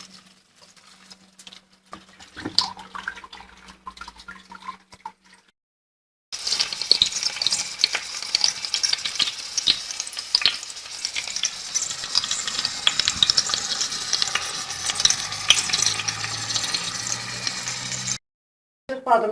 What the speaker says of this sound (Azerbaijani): Badımcanlar qızarıb, o üzbüzünə bir bağ alacaq.